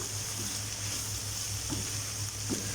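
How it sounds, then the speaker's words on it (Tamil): Paneer fried rice is stirred and mixed in a pan, a soft continuous sizzle with a few faint scraping strokes, quiet and steady, no voices. "இதெல்லாம் சேர்த்து நல்லா மிக்ஸ் பண்ணிக்கலாம்."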